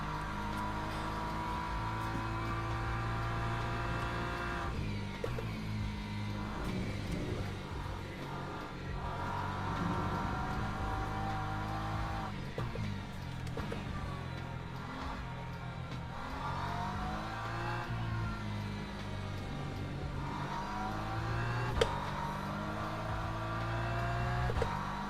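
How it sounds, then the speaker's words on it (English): LMP2 prototype race cars in Le Mans Ultimate at Interlagos multiclass, engines whining and revving continuously with rising and falling pitch as they approach and pass, fairly loud and layered, with no talk over the engine noise. "Oh shit, LMP2s are on the way."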